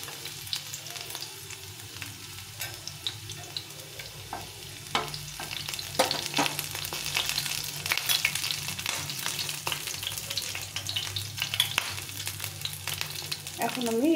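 Chopped garlic sizzling in a pan while momos are being made, a soft steady frying hiss with occasional stirring scrapes, fairly quiet and with no talking over it.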